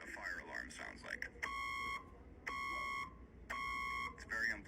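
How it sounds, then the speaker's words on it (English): A fire alarm sounds three loud, steady electronic blasts, each about a second long, separated by short gaps, with people talking before and between them. "Here's what a fire alarm sounds like."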